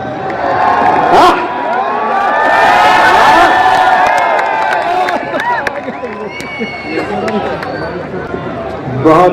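A large crowd at a Hindi poetry gathering (kavi sammelan) on the Raipur police ground claps and cheers loudly, with whoops, shouts and whistles swelling and then tapering off, while voices call out over the noise.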